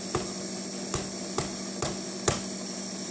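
An electric mixer blending red velvet cake batter gives a steady low whir, close and fairly quiet, punctuated by five evenly spaced sharp clicks.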